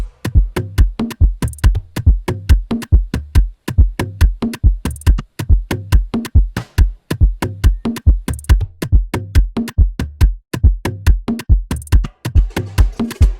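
Busy, rhythmic Afrobeats percussion top loop of quick clicks and hand-drum hits over low thumps, with periodic crash accents, played alone in an even, repeating pattern.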